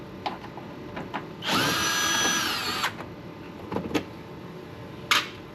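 A power tool runs a bolt home on Porsche GT4RS aero parts being fitted to a 991 GT3RS, one steady whirring burst of about a second and a half, close and clear, framed by small clicks and clatters.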